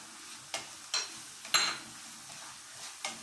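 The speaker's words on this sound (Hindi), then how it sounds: "प्याज लहसुन भून गए हैं तो इसमें नमक, हल्दी, मिर्च और जो जीरा पाउडर है सब मिला देंगे इसमें।" Spoon stirring salt, turmeric, chili and cumin powder into fried onion and garlic in a pan, with a soft steady sizzle broken by a few distinct scraping strokes against the pan.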